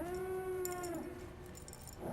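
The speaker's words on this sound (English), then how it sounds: "So I have a cat alarm." A cat alarm sounding on a stream when the cat enters the room, a single drawn-out meow-like wail that fades out.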